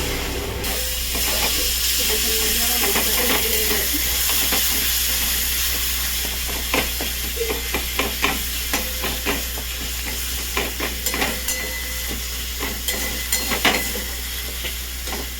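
Masala sautéing in a pan just after water is added, with a constant loud steamy sizzle and repeated close scraping stir strokes in an uneven rhythm that grow more distinct over time.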